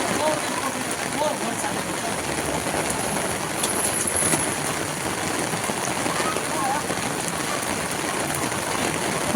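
Heavy monsoon rain pours steadily in Bhavnagar, a dense, continuous wash of drops close by, with voices faintly mixed in beneath the downpour.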